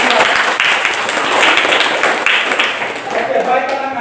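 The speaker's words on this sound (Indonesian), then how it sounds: "Kita tepuk tangan untuk kelompok 2." Classroom students clap for a presenting group, a dense burst of quick applause that rolls on steadily close by, with children's voices mixed in.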